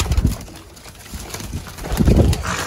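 Pigeons cooing close by in soft, throaty bursts, with a brief pause between calls and faint background noise.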